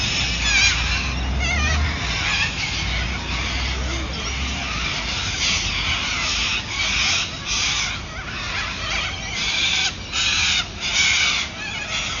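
Harsh, raucous bird calls repeat in ragged bursts, loud and fairly close, with caws and clucking cries overlapping continuously.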